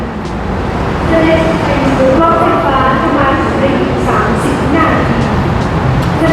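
Loud, continuous rumble of driverless electric trains and trains on three crossing lines in Thailand, with rail noise and squealing tones, a busy transit din throughout.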